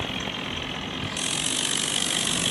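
A John Deere tractor engine in a farming video game runs steadily with a low, constant drone that rises slightly in intensity partway through, with no talking over it.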